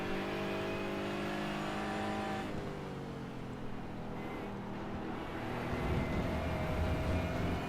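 Porsche GT4 race cars circuiting Hockenheim in a sim racing game, a continuous loud engine drone with shifting pitch as a stream of cars runs together, rising near the end.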